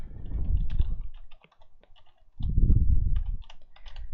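Rapid bursts of keystrokes on a computer keyboard, close and clear, in two clusters separated by a short quieter pause with scattered clicks.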